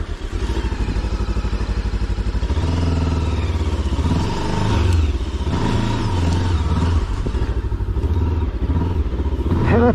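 A Rieju Aventura 500 motorcycle engine runs steadily while being ridden, a loud close continuous drone with rising and falling revs and some clatter from rough terrain throughout.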